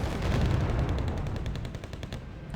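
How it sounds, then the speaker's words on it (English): Dense battlefield gunfire and cannon blasts from the Wargame Red Dragon strategy game, a steady loud barrage of overlapping shots and booms with no pauses, running throughout without speech. "Riflemen and Rangers trying to hold their ground. Just getting pounded by the cannons."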